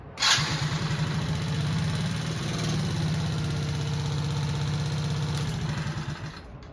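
A 50cc Kazuma Firehawk Chinese quad fires up with a sharp catch, then settles into a steady, buzzy idle with a fast, regular putter that carries on for several seconds, close and fairly loud.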